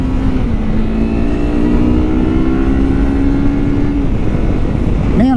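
A Kawasaki Versys-X 300 motorcycle pulls hard in second gear, its engine note rising steadily in a continuous close, loud run over heavy wind rumble, then dipping briefly near the end.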